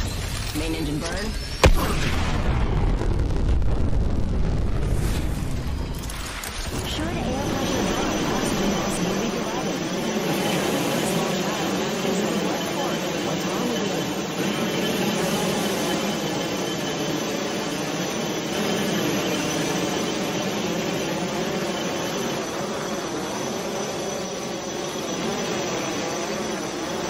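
A spacecraft's main engine burn in a video game starts with a loud, rushing roar, then settles into a long, steady droning hum while people talk over it.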